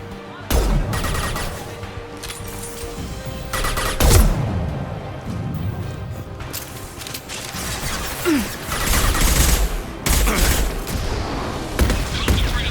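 Gunfire in the video game Mass Effect 2: repeated bursts of shots and booms over about thirteen seconds, loud and close, with combat voices mixed in.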